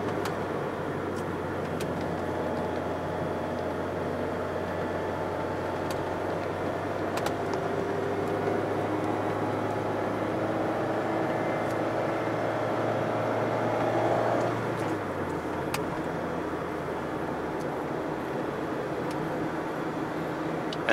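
A Mazda MX-5 ND Miata RF GT drives on an open road, its engine a steady low hum that holds a rising tone then drops sharply after about fifteen seconds, under constant road and wind noise.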